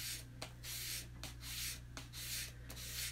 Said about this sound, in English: Sam, I changed the sandpaper.